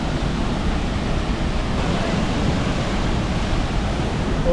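Roaring waterfall on a short Yosemite trail, heard up close as a dense, steady wash of broadband noise that stays loud and constant throughout, with no voices over it.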